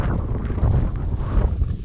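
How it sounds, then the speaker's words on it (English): Raw gusts of wind on an exposed mountaintop above a huge lake buffet the microphone with a loud, low, rumbling roar that swells and eases throughout. "Getting real gusts of wind now."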